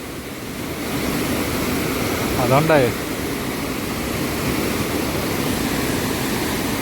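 A Himalayan waterfall on the trek to Yulla in Himachal Pradesh roars as a loud, close, unbroken rush of water, with someone briefly speaking over it.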